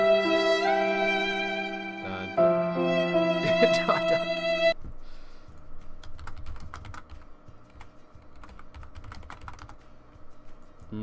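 Quick, irregular clicks of a computer keyboard, heard first under bright game music and then almost alone once the music cuts out partway through, with the keystrokes staying close and steady.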